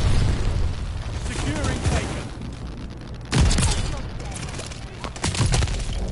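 A teammate fires repeatedly in a shooter game, with sharp bursts and heavy booming volleys breaking out over a busy, noisy battle din; a voice talks over parts of it.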